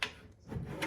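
A deep drawer on a slate gray US General 30-inch mechanic's tool cart from Harbor Freight sliding open: a short metallic rolling rumble with a brief click at the start and another near the end, close and fairly quiet.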